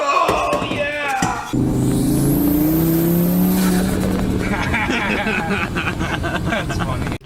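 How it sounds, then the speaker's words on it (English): A sheriff's car passes close by on the road, a broad engine and tire rush that swells to a loud peak and then fades, with voices talking over the roar. "We're getting passed by the sheriff."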